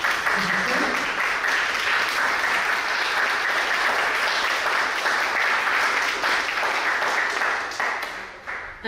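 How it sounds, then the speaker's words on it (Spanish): An audience at a book presentation gives a strong, steady round of applause as a guest stands, the clapping dense and continuous before tapering off at the very end. "Por favor, lo recibimos con un fuerte aplauso."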